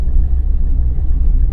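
Engine of a 1988 Mazda 323 vibrating while driving, heard from inside the cabin as a loud, steady low rumble with a constant droning hum.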